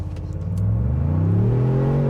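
2025 Ford Bronco Stroppe Edition launching from brake torque in drive with automatic four-wheel drive, its engine note climbing in a strong, steady rev from a low rumble, loud and close.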